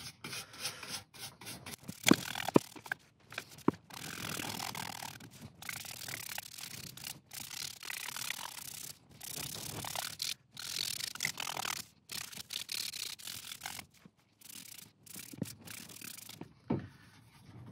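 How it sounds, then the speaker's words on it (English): Yew woodturning rubbed down with wire wool, a close, steady scratchy rubbing in repeated bursts with brief pauses, heard alone without talk. "we're always going to rub it down with a bit of wire wool"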